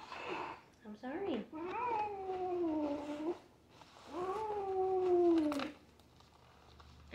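An unhappy cat is being placed into a cat bag and gives two long, drawn-out, wailing meows with short yowls before them. The cat sounds close, and a voice speaks briefly.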